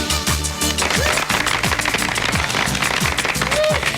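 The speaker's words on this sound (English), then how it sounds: "the crowd is going absolutely crazy" A concert crowd at an old-school funk show roars and claps loudly and continuously, a dense wall of cheering and applause over thumping low beats, with a voice calling out briefly.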